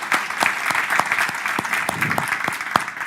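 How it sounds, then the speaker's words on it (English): Applause from a forum audience on Portugal–USA higher education: steady, moderately loud clapping from a roomful of people with distinct sharp claps standing out, no talk over it. "A round of applause, please."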